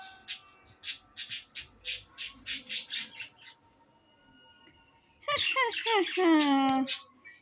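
Short squawking bird calls in the video game Granny repeat in a quick, bright series, then a voice speaks loudly over a brief pause.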